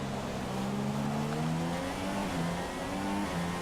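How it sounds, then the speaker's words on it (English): A Formula 1 car engine in the F1 2016 racing game at the Australian circuit, a loud sustained high whine climbing in pitch through successive gear changes. "Revving through the gears."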